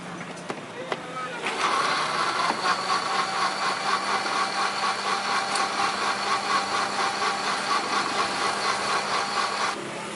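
A kitchen blender whirs while blending a sweet drink. After a few faint clicks it starts abruptly into a loud, steady, pulsing grind, runs for about eight seconds, then cuts off.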